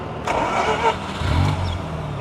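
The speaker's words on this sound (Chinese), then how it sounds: "我们去打着引擎吧，无钥匙启动。" A Mazda RX-8 rotary engine with keyless start cranks briefly and then catches, settling into a steady low idle rumble close by.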